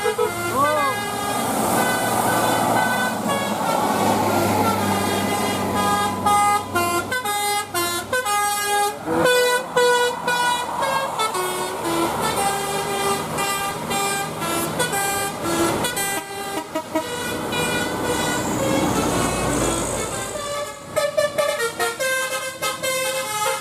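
Bus telolet musical air horns sound on Indonesian buses such as Basuri, Izy Trans, Dheemobillindo, Bima Trans and James Co, playing loud, close, sustained multi-tone melodies that change pitch in bright chords, with clipped rhythmic blasts and crowd noise underneath.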